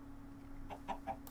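Minecraft chicken in the StoneBlock modpack gives three short, soft clucks in quick succession, faint over a steady background hum.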